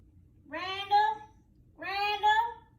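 A cat gives two drawn-out, rising meows in close succession, each clear and fairly loud against a quiet background.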